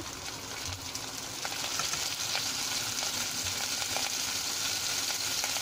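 Onion sizzling softly in hot oil in a pan, a continuous faint frying hiss with occasional light stirring scrapes, no voices.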